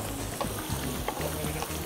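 Shallots and garlic sautéing in hot oil for Thai-style mango fried rice, a steady close sizzle and crackle of frying with faint stirring scrapes.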